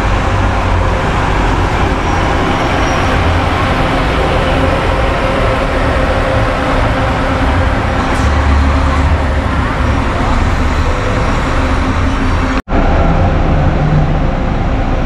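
A Comil Invictus TD coach bus on the São Paulo to Blumenau run pulls away amid a steady wash of road and traffic noise, with a low engine rumble underneath, while someone talks over it.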